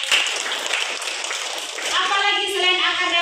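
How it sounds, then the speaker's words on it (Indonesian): A classroom of children applauds a student named Sandra, with brisk overlapping claps for about two seconds, then a teacher's voice takes over. "Oke, tepuk tangan untuk Sandra."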